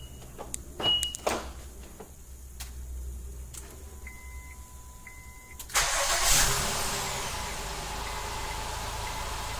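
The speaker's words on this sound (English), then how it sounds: "We're going to go ahead and activate the remote starter." A 2013–2017 Honda Accord push-to-start is started by remote starter outdoors: a few faint clicks and beeps, then the engine cranks and catches with a sudden loud surge before settling into a steady idle.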